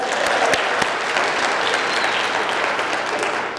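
Conference audience giving themselves a round of applause at an early intervention event, a loud, full crowd of clapping heard throughout, dense and steady with a few sharper claps near the start.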